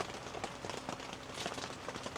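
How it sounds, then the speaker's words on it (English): Steady patter of rain drumming on a taut tent surface while truck camping in the mountains, dense and continuous with scattered louder drops, close by and without voices. "And now it started raining."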